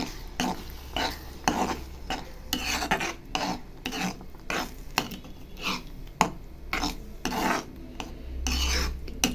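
Repeated scraping and rubbing of a spoon against a pan, steady rhythmic strokes of thick date halwa being stirred, fairly close, no talking.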